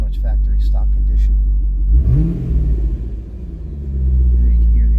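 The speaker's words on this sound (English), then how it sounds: "There you can hear the exhaust." A stock 2009 Chevrolet Corvette C6 engine revs up with a deep rumbling exhaust, then settles to a throaty idle and builds again; brief voices at the start.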